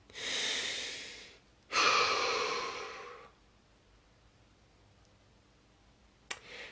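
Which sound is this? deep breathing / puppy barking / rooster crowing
deep breathing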